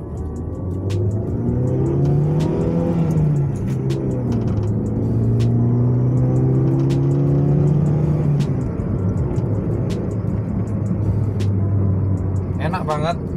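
A 1997 Mazda Familia 323 with a 1800cc DOHC engine pulls hard in first gear, the engine note climbing steadily in a loud, close drone while someone talks excitedly over it.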